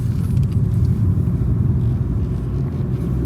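Inside a ninth-generation Honda Civic, a deep, steady engine and road rumble fills the cabin as the car drives on, loud and continuous with no voices.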